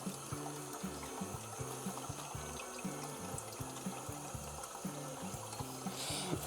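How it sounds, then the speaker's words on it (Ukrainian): Wort trickles and drains from rinsed malt into a pot during home brewing in a kitchen, a faint, steady dribbling of liquid with no voices. "Зараз почекаємо, поки трошечки стіче."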